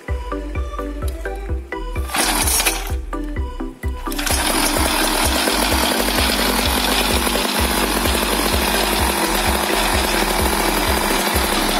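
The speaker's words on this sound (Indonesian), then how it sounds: "Mari kita tes, kita nyalakan suaranya seperti ini." A 50cc two-stroke moped engine with a custom exhaust starts up and settles into a loud, raspy, buzzing idle with a rapid pulsing rhythm, running continuously close by.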